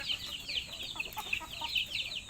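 Pet chickens at morning feeding time give off steady, close clucking and soft chattering calls that overlap continuously from start to finish, with no talking.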